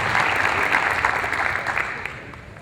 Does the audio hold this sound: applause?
yes